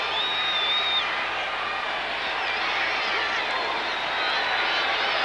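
A large stadium crowd at an NFL game between the New Orleans Saints and San Diego Chargers roars in a loud, steady wash of noise, with faint whistles and voices rising out of it.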